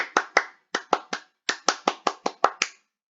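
Scout clapping in the tepuk pramuka pattern: crisp hand claps in short grouped bursts of two, three and then a longer run, close and distinct against silence with no voices.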